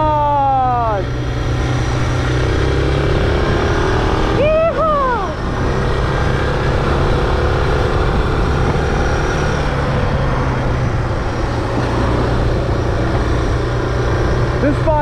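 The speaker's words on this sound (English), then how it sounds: "This bike is so much better because it goes fast when I need it to." A Suzuki DR650 motorcycle rides and accelerates. Its engine pitch climbs sharply at the start and again about a third of the way in, over a loud, steady engine and wind drone.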